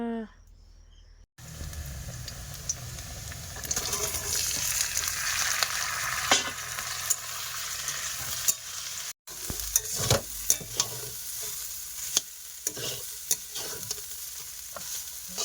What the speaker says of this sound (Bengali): আলু ভাজা হয়ে গেছে প্রায়।